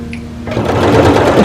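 Sewing machine running steadily as it stitches a garment from Butterick pattern 6956, starting after a short quiet moment and then humming continuously at close range, with no one speaking.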